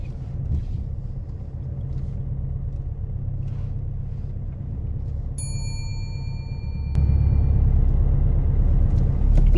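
A car manoeuvres slowly during a driving test, its low engine rumble steady throughout and growing louder toward the end, with a brief chime-like ding partway through.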